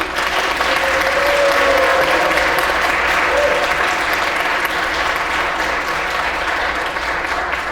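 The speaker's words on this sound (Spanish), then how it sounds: "Mariana Elena Ortiz Casillas, su aplauso." Loud, sustained applause from an audience fills the whole stretch, a dense even roar of clapping with a faint voice briefly underneath.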